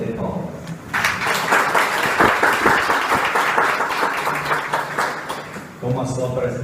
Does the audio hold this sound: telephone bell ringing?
no